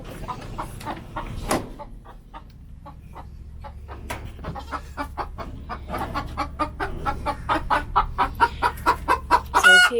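Chickens in a farm coop cluck repeatedly at close range, the calls growing denser and louder toward the end, with a brief rooster-like squawk early on and no talking.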